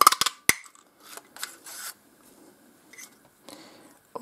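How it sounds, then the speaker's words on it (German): A word window punch is pressed through a scrap of whisper white cardstock, giving a sharp crunching snap followed by a few softer clicks and rustles of paper, close and alone. "Das stanze ich jetzt mit der Wortfensterstanze aus"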